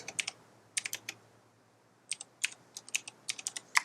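Typing on a mechanical keyboard: bursts of sharp, close key clicks in quick clusters, with a pause in the middle, alone with no talking.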